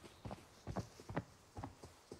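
Footsteps in a video game, with about five or six soft, evenly spaced thuds over a couple of seconds, faint and alone.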